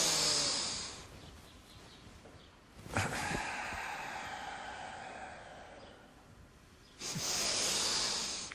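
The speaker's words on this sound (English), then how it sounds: "Relaxing, exhaling." Breath during a Yogananda-style energization exercise: long, hissy, close exhalations and inhalations with short pauses between them, loud and airy with no speech.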